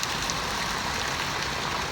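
Steady rain hisses down onto a surface during a tornado, a dense, even patter with no breaks.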